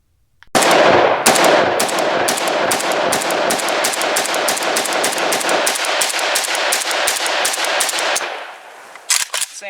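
Rapid gunfire from an Arsenal SAM7R AK-pattern rifle outdoors: a long, loud string of about twenty evenly spaced, sharp shots over roughly eight seconds, followed by a brief pause and a couple of final quick reports.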